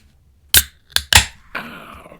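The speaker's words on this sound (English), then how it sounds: "cracking the can." Sharp metallic clicks and a pop as a 12-ounce can of dark ale is cracked open, followed by a brief fizzing hiss, close and clear with no talking.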